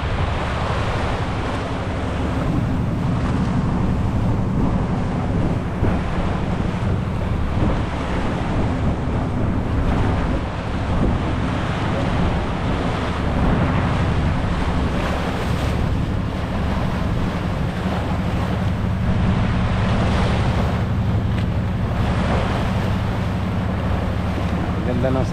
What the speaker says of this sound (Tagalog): Basag ng basag yung ano, alon.